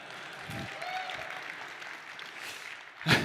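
An audience at a React Conf 2024 talk claps steadily in a continuous patter of many hands, moderately loud and even, with a louder thump near the end.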